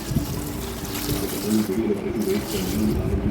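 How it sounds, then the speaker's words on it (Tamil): Rice-starch water left from cooked rice is poured into a bucket of chillies, making a close, steady trickling splash that runs throughout. "சாதம் வடித்த தண்ணி அது கொஞ்சோண்டு ஊற்றிருக்கேன்."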